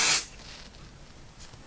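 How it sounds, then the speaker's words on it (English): A short, loud burst of spray adhesive hisses onto fabric interfacing for a bag, cutting off after a fraction of a second and leaving a quiet room tone. "So now all I'm going to do is just put a little bit of spray"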